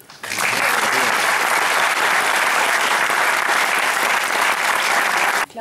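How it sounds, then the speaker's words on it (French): A studio audience at a French literary talk show breaks into loud, sustained applause, dense steady clapping that fills the space for several seconds before cutting off abruptly. "Vous pouvez l'applaudir."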